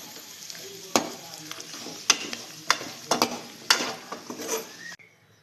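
Pirandai (adamant creeper) sautés for thuvaiyal in a pan, a steady soft sizzle broken by sharp spatula scrapes and knocks against the metal at irregular intervals, close and alone.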